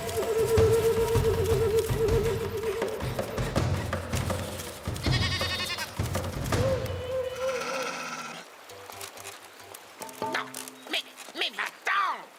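A cartoon goat bleats in quavering, wavering cries, several calls rising over a loud music score, with voices speaking in between.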